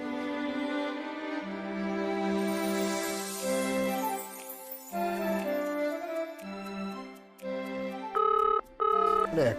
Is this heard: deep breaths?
no